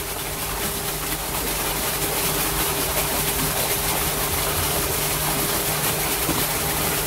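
A homemade 12V 250W water pump motor runs steadily at close range, giving a loud, constant whine with a fixed hum, unbroken for the whole stretch and with no talk.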